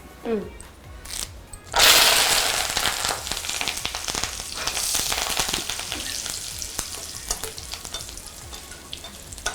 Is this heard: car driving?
no